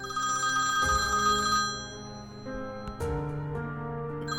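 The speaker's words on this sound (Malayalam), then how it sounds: "ഞാൻ ഫോൺ എടുക്കണോ വേണ്ടയോ?" A telephone rings with a steady electronic ringtone for an incoming call, loud and close, its repeating tonal pattern running alone with no talk over it.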